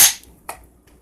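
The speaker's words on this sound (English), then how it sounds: "I'm just going to crack open the beer." A beer can cracks open with a sharp hiss-pop burst at the start, followed by a second shorter snap and a faint tick, close and clear with no talk.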